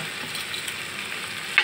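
Sweet potato and pumpkin fry in a pan with spices and dried fish, a steady bright sizzle with a small sharp clatter at the very end.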